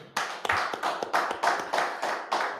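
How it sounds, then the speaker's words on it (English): A small group claps in steady rhythm at a biblical law class in Fayetteville, North Carolina, with sharp, evenly spaced claps of moderate loudness continuing without pause. "All right, clap it up."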